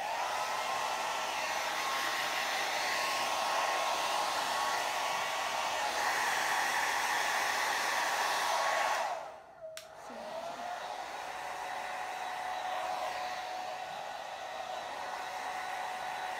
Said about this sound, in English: let's blow dry it